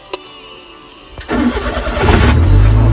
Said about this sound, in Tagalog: nakaapakan ko yung ating clutch pedal para mag-start ang ating sasakyan